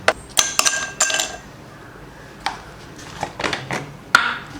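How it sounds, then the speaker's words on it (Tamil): Ice cubes and lemon pieces for a kulukki sarbath drop into a glass, making a series of sharp clinks and knocks, several quick ones early and scattered hits after, with quiet gaps between. "ஐஸ் க்யூப் சேர்த்துடலாம்"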